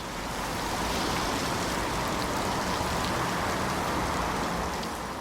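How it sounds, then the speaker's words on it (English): Steady rain falls in a dense, even hiss that stays constant throughout, with no voices or other sounds breaking through. "Of course, it's raining."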